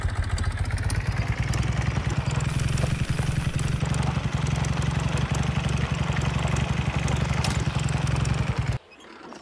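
Motorcycle engine in Farmer's Life idling steadily with a low, rapid chugging pulse and clattering overtones, close and continuous before cutting off abruptly near the end.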